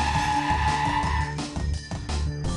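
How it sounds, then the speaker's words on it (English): A car under full braking from 70 km/h without ABS skids with a loud, sustained tire squeal and scrubbing roar that wavers and briefly dips before continuing. "Full braking was done at 70 km per hour. Without ABS, the vehicle takes longer to come to a complete halt."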